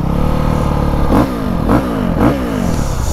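A Honda CRF 450 dirt bike engine runs loud and close, a rough, steady idle broken by three quick revs that rise and fall about half a second apart.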